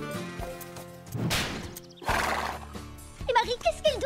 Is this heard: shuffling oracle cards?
no